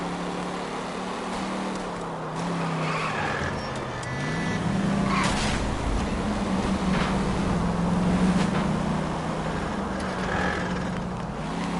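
A car drives in the video game L.A. Noire, its engine droning and swelling as it accelerates, with tire and road noise and brief sharper bursts along the way.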